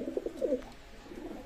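Teddy pigeons cooing in a breeder's loft, a soft, low, throaty rolling coo repeated in short bursts, close and moderately loud with no talk over it.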